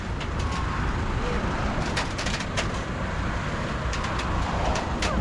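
Steady, heavy engine rumble of two tow trucks outdoors, loading a car with burned-out electrics, with occasional metallic clanks and knocks over continuous traffic-like noise.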